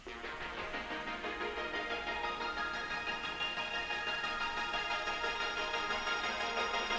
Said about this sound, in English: what happens with the arpeggio at the end here, which is kind of cool, is it transforms into a pad